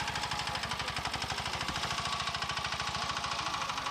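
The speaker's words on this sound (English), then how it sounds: "A motor tricycle is the only means of travel, apart from bicycles, around the village." Motor tricycle engine in a Sundarbans village, a steady fast chugging putter with a rough knocking rhythm, loud and continuous throughout.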